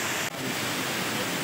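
A waterfall roars as a steady, full broadband rush of falling water, loud and close, with no voices over it.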